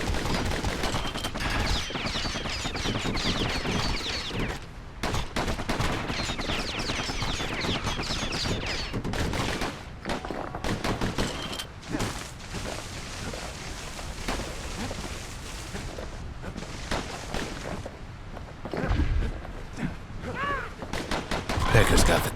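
Dense, loud gunfire from enemies in the video game Bastion, with bursts of rapid shots and heavy blasts running almost continuously, briefly dropping out before resuming.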